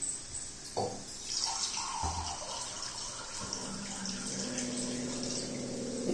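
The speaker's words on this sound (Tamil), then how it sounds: "கொஞ்சம் தண்ணி ஊற்றிக்கலாங்க." Water splashes and trickles into a cooking pan, starting abruptly and continuing steadily, quiet and close, with a faint clatter near the start.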